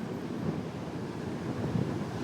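Ocean waves wash onto a Moroccan beach in a constant low roar of surf, softened by wind rumble across the microphone, with no voices.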